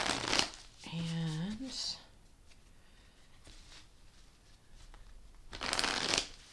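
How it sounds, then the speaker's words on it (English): A deck of Light Seer's tarot cards is riffled and shuffled close up in two crisp bursts at the start and end, with someone speaking between them. "I'm making sure I'm shuffling them right."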